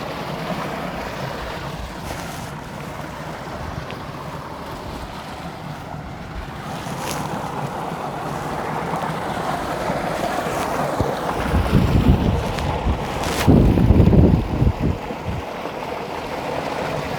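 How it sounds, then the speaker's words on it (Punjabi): Wind blows across open farm fields in Punjab beside a field irrigation channel on a very hot day, a steady rushing roar with gusts buffeting the microphone, strongest near the end, and no speech. "ਹਵਾ ਚੱਲ ਰਹੀ ਆ ਖੇਲ ਦਾ ਪਾਣੀ ਅੱਗੇ ਜਾ ਰਿਹਾ"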